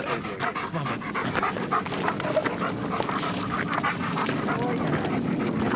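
Police search dog panting rapidly and steadily up close, with a voice speaking over the breathing.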